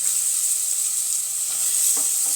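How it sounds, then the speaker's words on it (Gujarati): Chickpeas stirred into potatoes frying in a pan with turmeric and salt, giving a continuous bright, loud sizzle and hiss close by, with a few soft stirring scrapes near the end. "ચણા નાખી દઈશું ને તેને પણ મિક્સ કરી લઈશું"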